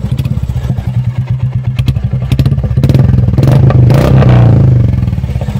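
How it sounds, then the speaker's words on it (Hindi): A Royal Enfield Classic 350 Stealth Black idles close by with a loud, steady thumping exhaust beat, then swells briefly with a rev in the middle before settling back to its even single-cylinder rhythm, with no talking. "मैं आपको यहाँ पे इसके एग्जॉस्ट का साउंड आपको सुनाना चाहूँगा।"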